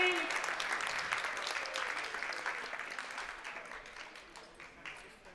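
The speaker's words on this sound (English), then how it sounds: "let's give them a round of applause here" Audience applause at the Arctic Winter Games for the medal presenters, a steady wash of many hands clapping that gradually fades over a few seconds in an indoor hall.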